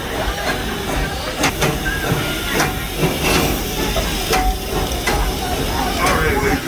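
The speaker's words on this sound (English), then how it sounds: "the train is arriving" The Serengeti Express steam train pulls into Nairobi Station at Busch Gardens in Florida, with a steady hiss of steam, rhythmic clanking bursts and rail noise, loud and near throughout.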